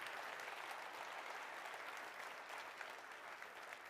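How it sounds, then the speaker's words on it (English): Audience at a county address applauding, a steady wash of clapping from a large hall crowd, even and sustained throughout without pause. "a big round of applause"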